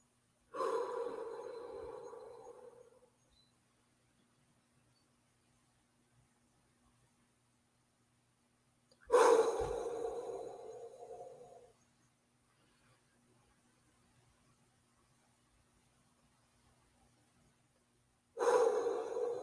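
Slow, deliberate breaths during a deep-breathing wellness exercise, each long airy exhale lasting a couple of seconds and separated by long quiet pauses, heard close and alone.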